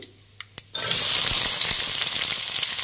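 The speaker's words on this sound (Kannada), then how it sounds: "ಈರುಳ್ಳಿ ಚೆನ್ನಾಗಿ ಫ್ರೈ ಆಗಬೇಕು" Onions dropped into hot oil in a pan, where chana dal has already fried golden brown: a few light clinks, then a sudden loud, sustained sizzle that continues strongly with faint stirring scrapes.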